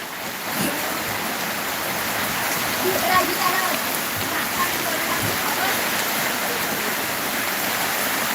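Heavy rain falls steadily in a village in Maharashtra, an even close wash of hissing patter with faint scattered drips and no clear voices.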